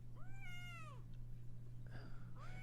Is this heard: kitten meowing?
yes